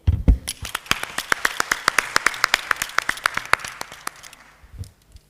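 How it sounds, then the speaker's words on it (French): An audience at a careers forum for the Mauritanian diaspora bursts into applause, a dense run of sharp individual claps that builds, holds steady and then thins out into a few last claps. "je voudrais aujourd'hui qu'on applaudisse la jeunesse mauritanienne"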